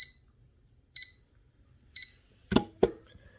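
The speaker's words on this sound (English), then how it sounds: "don't have some PTSD alarm of some loud beeping or something." An alarm clock's bright electronic beep repeats once a second three times, then two sharper, louder clicks or beeps follow close together.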